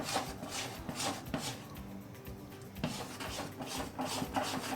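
A spoon scrapes and rubs through thick Mysore Pak mixture in a pan on the stove, giving soft, repeated stirring strokes in an uneven rhythm, close and fairly quiet, with no talking.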